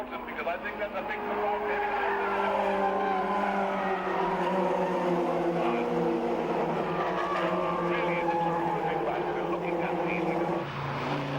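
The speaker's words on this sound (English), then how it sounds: "The banking is clipped and the car just spins over." A racing car on a race track clips the banking and spins over, with a loud sustained engine roar and tyre noise that holds steady before cutting off abruptly near the end, while someone talks over it.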